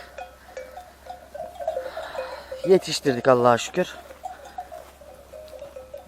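Livestock kept for the Kurban sacrifice call out nearby, a few bleats overlapping in a quick cluster, while someone talks over them.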